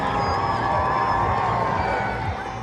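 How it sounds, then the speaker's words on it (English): Hundreds of people gathered in Cardiff cheer and shout steadily as King Charles arrives, a dense, loud wash of crowd noise with no single voice standing out. "The King arrived to cheers and flag waving from the hundreds of people who'd gathered."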